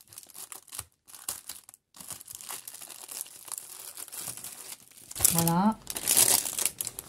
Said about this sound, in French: c'est la petite pochette qui fait du bruit